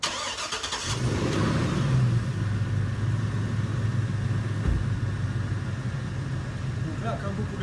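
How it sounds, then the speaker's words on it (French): A car engine turns over and settles into a steady, loud idle running continuously after the start, with a brief thump partway through. "je viens de mettre le véhicule en route"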